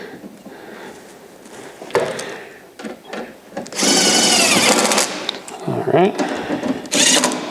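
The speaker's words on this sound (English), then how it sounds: "And then we'll start the screws." A power driver whirs in short bursts as it drives screws into a compact refrigerator during a defrost thermostat replacement, loud and near, with a voice speaking briefly between bursts.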